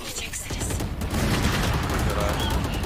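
Rapid gunfire from a shooter video game crackles in dense, continuous bursts throughout, loud and busy, with a voice partly mixed in.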